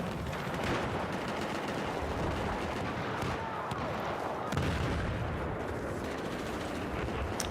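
A light machine gun in a Battlefield match fires in a dense, loud, sustained roar of rapid shots. Other gunfire and battle noise blend into the mix throughout.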